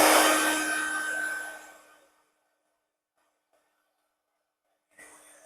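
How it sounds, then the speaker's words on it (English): A heat gun blows a loud, steady hot-air rush over wet acrylic paint on a Halloween ghost craft, fading out after about two seconds, then briefly restarting near the end. "I have a heat gun from when I used to do Stampin' Up, and so it kind of just dries the paint a little faster."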